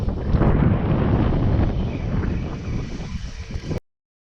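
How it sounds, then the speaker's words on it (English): Wind buffets the microphone in a loud, steady roar outdoors on shallow backwaters during spring bass fishing, then cuts off abruptly. "There's the wind again."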